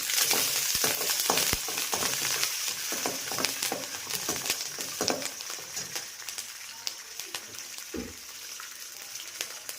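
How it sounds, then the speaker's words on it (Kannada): Curry leaves dropped into hot oil in a pan while preparing pumpkin sambar, giving a steady crackling sizzle with scattered sharp pops and spits throughout, close and fairly loud, no voices. "ಈಗ ಕರಿಬೇವಿನ ಸೊಪ್ಪು ಹಾಕ್ತಾ ಇದ್ದೀನಿ."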